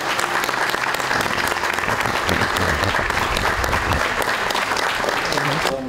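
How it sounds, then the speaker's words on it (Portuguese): A round of applause at the inauguration of a church catechism space, dense steady clapping from a gathered crowd lasting the whole stretch, with voices mixed in. "Uma salva de palmas."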